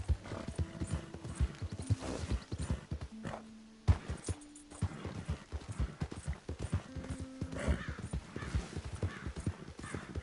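Hoofbeats of a horse in Red Dead Redemption 2, a steady clip-clop rhythm running through the whole stretch with occasional whinnies and some mixed game sounds around it.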